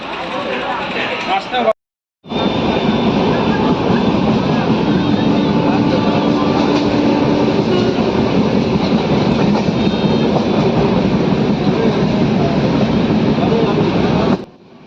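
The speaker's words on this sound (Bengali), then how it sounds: "ট্রেন চলতে শুরু করে দিয়েছে" A moving train rumbles steadily and loudly from inside a carriage on a journey to Digha, with a constant roar and rattle after a brief cut near the start.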